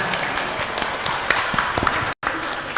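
An audience claps for the youngest Quran reciter at a Quran completion and graduation event, a steady mid-level patter of many hands with a brief dropout near the end.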